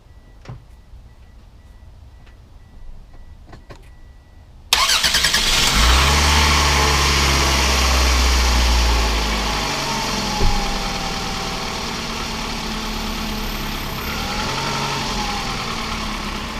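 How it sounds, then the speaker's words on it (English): A car engine cranks briefly and then fires up with a jump from a 2023 Hulkman Alpha85 battery jump starter. The engine settles into a loud, steady idle that runs throughout, with a small bump partway through. "So I'm going to attempt to crank the car and see what it starts."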